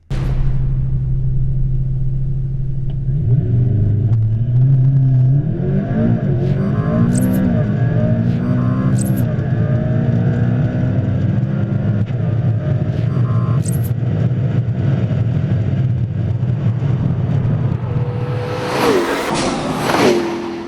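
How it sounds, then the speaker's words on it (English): A McLaren P1 supercar roars up hard from a standstill under launch control, climbing steadily through its revs with brief shift breaks, loud and close, then fading into a rushing whoosh. "hit the launch control button, presenting a world-exclusive acceleration run in the McLaren P1"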